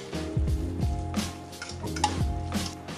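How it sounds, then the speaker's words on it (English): Raw vegan salad being tossed and stirred with moringa powder, giving a steady close rustling and mixing texture with soft repeated scrapes and clinks throughout, no talking. "I'm gonna go ahead and I'm gonna mix it together"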